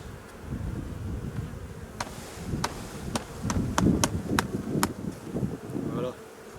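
Honeybees buzz steadily around an open beehive during a frame inspection, a dense droning hum with several sharp clicks and knocks from handling the hive partway through.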